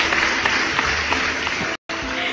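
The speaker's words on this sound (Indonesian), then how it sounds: "Tepuk tangan." Applause from a small group fills the moment with steady dense clapping, loud and close, briefly cut by a short dropout near the end.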